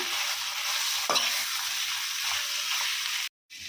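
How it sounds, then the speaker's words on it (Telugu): Snake gourd curry with chili powder being stirred in a pan, giving a steady close sizzle and frying hiss with a few scraping strokes, ending in a brief silence. "ఇందులో ఇలా బాగా కలుపుకొని బాగా మగ్గనివ్వాలి"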